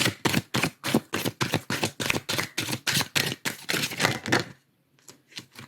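A deck of tarot cards is shuffled by hand in a quick, steady run of crisp slaps and riffles, then pauses briefly before a few softer shuffles resume.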